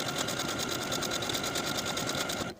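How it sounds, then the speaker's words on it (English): A sewing machine runs steadily at speed, its rapid stitching rhythm close and continuous before stopping abruptly at the end. "I'm going to sew them first on my sewing machine using a stretch stitch"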